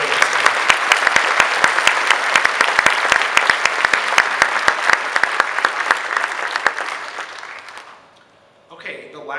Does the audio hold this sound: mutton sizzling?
no